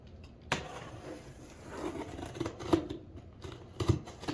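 Scissors or a blade cut open a tactical-gear unboxing package, a sharp snip followed by quiet crinkling and a few small clicks and scrapes, close and faint, no voices.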